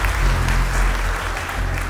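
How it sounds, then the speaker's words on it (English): Audience at a gala in a downtown Houston venue applauding, a loud dense burst of clapping with a strong low rumble underneath, sustained and slightly tapering over a couple of seconds. "Let's give a round of applause."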